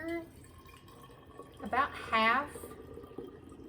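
Water kefir poured into a swing-top glass bottle, a brief gurgling pour with a rising filling tone lasting under a second, heard under and between a person's speech in a quiet kitchen.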